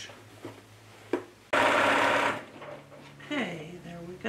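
A sewing machine stitches a dress hem in pre-shirred fabric: one loud, steady run of about a second, surrounded by quieter handling sounds and a voice.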